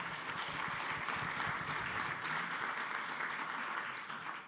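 Steady, dense applause from an audience at an award and winner announcement event, thanking sponsors; continuous clapping that holds level and fades slightly at the end, with no talk over it.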